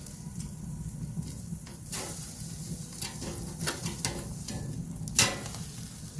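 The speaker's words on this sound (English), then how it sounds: "should be a pretty quick process to get this thing seared up and looking good" Tri-tip steak searing on a grill at around 500 to 550 degrees, a steady low crackling sizzle with a few sharper pops and one louder spit near the end, no voices.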